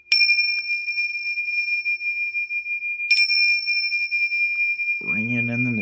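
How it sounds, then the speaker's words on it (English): Two clear strikes of a crystal singing bowl ring out with a pure, sustained tone that lingers, then a voice starts talking over the fading ring. "That was my crystal singing bowl."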